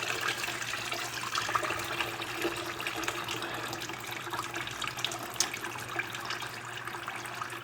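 Manual transmission fluid from a Tremec TR-6060 gearbox drains steadily, a continuous liquid trickle and splatter into a pan with no talking over it.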